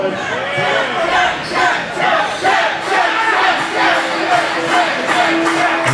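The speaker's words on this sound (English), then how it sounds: "And listen to this crowd here behind Jack Negan" Wrestling crowd at a Warriors of Wrestling event yelling and cheering in support of Jack Negan, a loud, sustained roar with rhythmic chant-like swells throughout.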